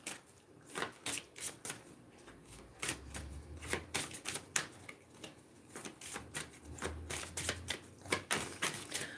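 Oracle cards being shuffled by hand, heard as a fast, steady, soft papery riffling and clicking that goes on throughout, close and fairly quiet, with no talking.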